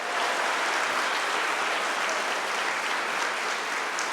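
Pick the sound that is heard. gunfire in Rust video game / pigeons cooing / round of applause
round of applause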